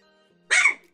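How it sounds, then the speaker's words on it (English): A dog gives one loud, close bark in a Minecraft Bedwars match, with a faint low hum before it. "I guess my dog's screaming."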